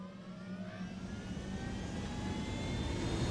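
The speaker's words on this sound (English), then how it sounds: "Hop onto the helicopter." Helicopter in Tom Clancy's Ghost Recon flying over Villa Verde, a steady droning engine and rotor rumble that slowly swells in loudness, continuous with no talk.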